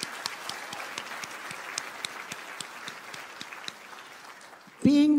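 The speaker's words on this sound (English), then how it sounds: "so give yourself applause." Audience applause at a fundraising awards luncheon, many hands clapping in a steady, even patter that runs for several seconds before a single voice comes in close at the end.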